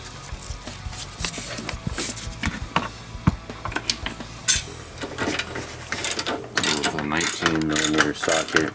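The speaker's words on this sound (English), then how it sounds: "13mm socket. You can now remove the nut on the end of the pivot bolt." A ratchet with a 13mm socket works a nut off the pivot bolt of a DeLorean DMC-12 suspension, giving fast metallic clicking bursts mixed with clanks and shop noise, close up and fairly loud, with a brief voice near the end.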